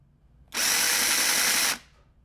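A power drill whirs steadily for about a second, drilling a hole in a piece of a guitar capo, a loud, close, high-pitched buzz that starts and stops abruptly with no talking.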